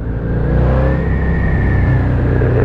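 Husqvarna Nuda 900R motorcycle engine revving under throttle, a loud continuous roar with a steady rising whine, heard up close without talk.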